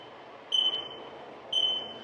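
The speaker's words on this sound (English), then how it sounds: "You go in reverse, you'll have the beep. It's going in reverse for safety." A Karcher dustless floor sweeper sounds its reverse warning: two clear, evenly spaced electronic beeps about a second apart, each lasting roughly a fifth of a second, over a low steady machine hum.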